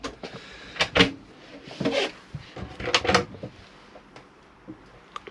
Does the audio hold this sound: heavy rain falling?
no